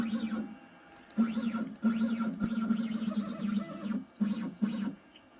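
A CNC carving machine for ceiling tiles jogs its head downward, its stepper motors whining in repeated rising and falling tonal sweeps with short pauses between moves, close and steady.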